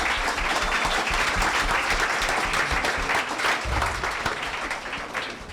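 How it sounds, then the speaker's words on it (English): Sustained audience applause at a food industry conference on plant-based innovation, a steady wash of clapping from a sizable crowd that holds for several seconds before tapering slightly at the end. "Round of applause for all of our speakers."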